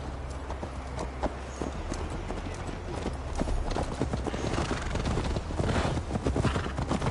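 Galloping horse hooves in Assassin's Creed Valhalla, a steady rapid clip-clop rhythm running throughout, fairly loud and close over a busy background of game ambience.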